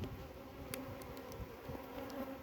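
Jandaira stingless bees swarm in an opened wooden hive box, giving off a dense, continuous buzzing hum that stays steady and close throughout, with no voices.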